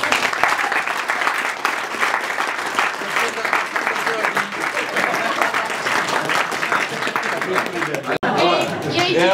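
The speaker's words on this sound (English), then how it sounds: "I'd like a round of applause for that." Wedding reception guests applaud after a speech, a loud sustained round of clapping mixed with chatter and a few voices, ending with a brief dropout near the close.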